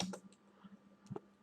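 Several quiet computer keyboard keystrokes tap out in an irregular burst, faint and close, with a brief pause between the first and last clicks.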